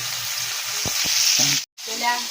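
Red sweet potato tops being mixed into a dish in a pan, with a steady sizzle, a couple of sharp utensil knocks, and a brief dropout near the end.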